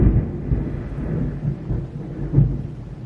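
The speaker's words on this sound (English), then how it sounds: "storm going on right now and the power is going out" A thunderstorm with steady rain and low rolling rumbles of thunder that swell and fade over and over, heard up close with no voices.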